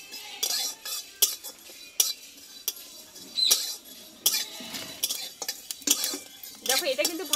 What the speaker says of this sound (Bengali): হালকা করে আমি একটু ড্রাই রোস্ট করে নেবো